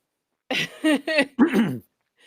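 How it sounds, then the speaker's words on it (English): Several short harsh coughs in a quick cluster, close and fairly loud, followed by silence. "coughing I heard"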